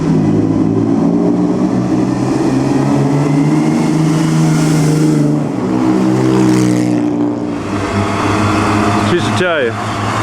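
A vintage Ferrari racing car drives past at the 2009 Mille Miglia road race. Its loud engine drone rises and falls as it passes nearby, with voices in the background.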